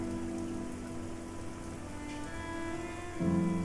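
Constant rain drenching the streets of Casablanca in the video game Rain, a continuous close hiss of heavy downpour with a low sustained musical drone, which shifts and brightens near the end.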